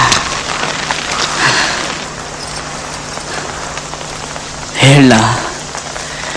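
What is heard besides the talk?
heavy monsoon rain with wind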